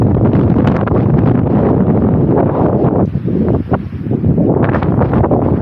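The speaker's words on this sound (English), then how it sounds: "And goodness me, it was windy." Strong wind buffets a small action camera's microphone in a snowy, freezing outdoor setting, producing loud, constant roaring rumble that dips briefly before surging again, with no talking.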